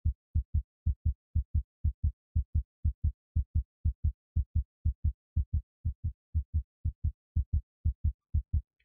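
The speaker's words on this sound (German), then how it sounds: "Machen wir ein wenig Sport, steigert sich dieser Herzschlag auf 120 Schläge oder mehr." Human heartbeat quickened by exercise, heard as a regular, rapid series of deep low thumps, about three per second, even and close, with nothing else over it.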